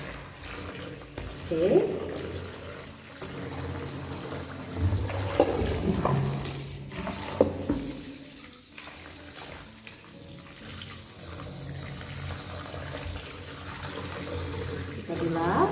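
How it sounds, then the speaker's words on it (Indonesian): Tap water runs and pours into a sink as a container is filled and rinsed to wash out soap, in a kindergarten science activity; splashing and running water continue steadily under occasional brief speech. "Kemudian kita isi air, kita bilas sampai tidak ada sabunnya ya."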